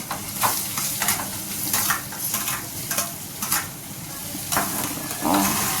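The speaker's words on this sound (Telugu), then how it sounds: "పీల్ తీసిన ఆలుగడ్డలు అయితే ఇంకా చిన్న చిన్న పీసెస్ లెక్క కట్ చేసుకొని అవి వేస్తున్నా" Peeled potatoes cut into small pieces sizzling in a hot pan, with repeated scraping strokes of a spoon stirring them in a steady rhythm over the constant frying hiss.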